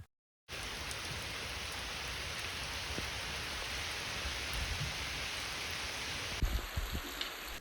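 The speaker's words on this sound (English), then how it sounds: "Rain has this magical and relaxing sound" Steady rain falling on an autumn day, a dense even hiss of drops with occasional closer patters, faint and uninterrupted, with no voices.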